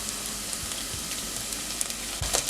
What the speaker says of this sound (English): Sauté well. Roast for a minute until the ginger garlic loses its raw smell.